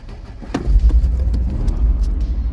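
An old 1980s car on a jump pack turns over, the engine cranking and then catching into a low, rough rumbling idle that stays loud and close.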